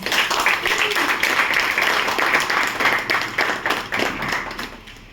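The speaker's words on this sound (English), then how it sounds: "let's have a huge round of applause for all our performers" A crowd at a Toastmasters meeting claps steadily for several seconds, a dense patter of hands that swells and then tapers off.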